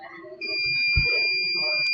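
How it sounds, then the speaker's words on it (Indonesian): The buzzer of an ESP32-based IoT fire detection system sounds as a fire alarm, a steady high-pitched electronic tone that starts partway in and holds over low background murmur and a bump. "maka buzzer akan menyala sebagai alarm kebakaran"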